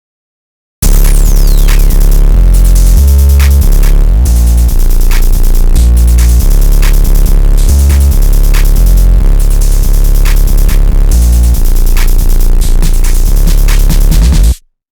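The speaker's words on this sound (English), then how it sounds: "this is what the drums entirely sound like" A full rage-beat drum loop built in FL Studio: loud, heavily compressed kicks and 808s thump in a steady driving pattern with crisp hi-hats and snares, running continuously for about fourteen seconds with no voices.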